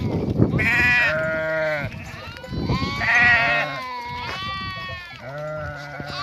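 A flock of sheep bleats on a highland pasture, several loud, wavering calls overlapping one after another, close by, with a voice briefly in the background.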